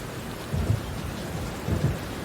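Heavy rain pours in a steady, dense wash while low thunder rumbles roll in twice, with no voices.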